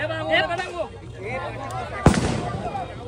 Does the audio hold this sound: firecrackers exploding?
yes